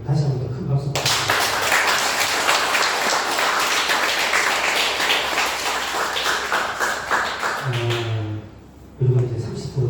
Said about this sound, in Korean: 다시 한 번 더 큰 박수 부탁드립니다.